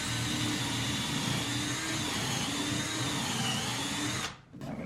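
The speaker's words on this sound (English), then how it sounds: "I have got my jig set up here, and I'm putting this right on the edge" A drill bores angled pocket holes into the edge of a board held in a jig, a loud, steady whine that stops briefly and then starts again.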